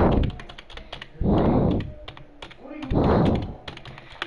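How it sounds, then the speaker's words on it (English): A new computer keyboard being typed on, with dense clicky keystrokes running throughout and a voice speaking in bursts over them. "I got a new keyboard, if you guys want to hear it"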